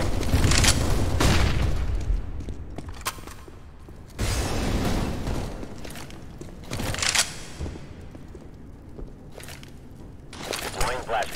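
Flashbang grenades bursting in the game CS:GO, several sharp booms spaced a few seconds apart, loud and close, with some in-game movement and noise between them.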